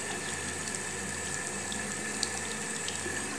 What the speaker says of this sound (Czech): Pustíme si vlažnou vodičku.